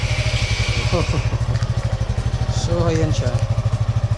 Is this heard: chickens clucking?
no